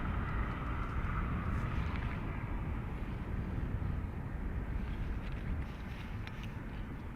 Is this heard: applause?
no